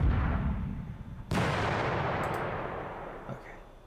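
Artillery fire in the WDS Panzer Campaigns: Kharkov '42 war game: a loud rumbling boom rolls out and fades, then a second sharp blast cracks in and decays slowly, with no voices.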